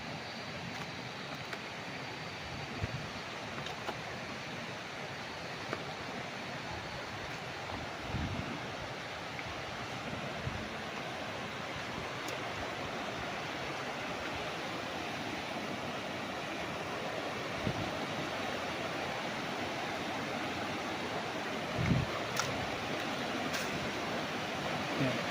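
Steady broadband rush of water flowing along a riverbank on a farm in Majayjay, Laguna, continuous and fairly even, with a few faint knocks and no talk.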